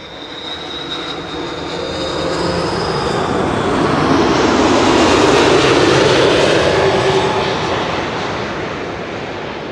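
A KLM airliner lands at Amsterdam Schiphol after a flight from Bonaire, its jet noise rising from a whining approach to a loud broad roar near the middle, then easing off as it passes and fades.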